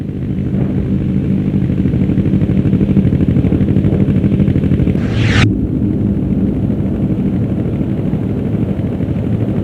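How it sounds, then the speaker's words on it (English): Loud, continuous video game helicopter rotor drone with a steady chopping pulse, broken midway by a brief rising whoosh that cuts off abruptly. "our helicopters are looking for them now"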